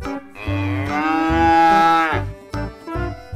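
A very white Australian calf lets out a long, loud moo, drawn out and rising, with brief clattering and grunts around it.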